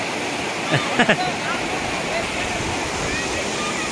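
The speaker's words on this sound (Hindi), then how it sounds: "बहते पानी की नदी" A flooded river rushes past in a broad, steady roar of flowing water, with faint voices briefly audible near the start.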